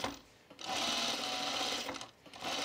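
A sewing machine stitches elastic onto the waistband of pajama bottoms in two steady runs, with a short pause between them and a brief stop near the end, loud and close with no talking.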